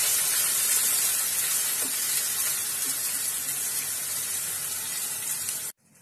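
Garlic-ginger paste sizzles loudly with browned onions in a kadhai while making kadhai paneer, a dense, steady hiss that holds evenly for several seconds before cutting off abruptly near the end.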